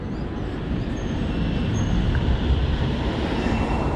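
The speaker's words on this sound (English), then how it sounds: "just where that tram's parking." A tram rumbles steadily along its rails on Flinders Street, Melbourne, a continuous low roar with faint high metallic whine, no voices.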